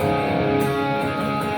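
Guitar chords ringing out together in a sustained, full strum, steady and close, with no voices.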